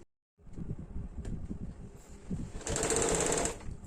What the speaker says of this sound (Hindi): अब हम लोग नीचे साइड में चाक का सिलाई कर लेंगे।